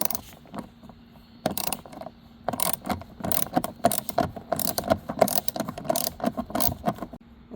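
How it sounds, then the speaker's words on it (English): A ratchet turning a 7mm socket on an extension to back out a small screw from a Ford Fusion power mirror switch assembly, producing close, irregular bursts of clicking and mechanical rattling with short pauses between strokes. "It's gonna be a 7mm, so you will need a socket, extension and a ratchet, and just remove it."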